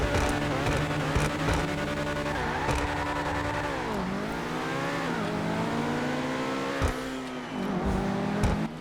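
A high-performance car's engine revs and roars in GTA 5 Online, rising and falling in pitch through repeated throttle blips and gear changes, loud and continuous with no talking.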